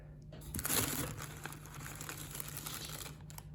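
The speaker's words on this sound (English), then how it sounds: "Oh, they're all wrapped up, so I'll have to unwrap them." Plastic bag packaging around small deflasked orchid plants being unwrapped, crinkling and rustling close up in one continuous handling burst, louder at the start.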